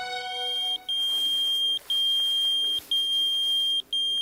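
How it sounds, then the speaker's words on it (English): A pager lying in the grass goes off with a steady, high electronic beep that repeats in evenly spaced pulses, each about a second long with short gaps between, clear against a quiet background. "The sound of a pager going off in the grass a few feet from the victim"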